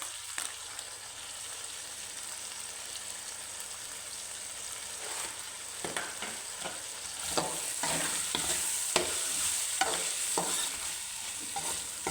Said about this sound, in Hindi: इनको हम अच्छी तरह भूनेंगे।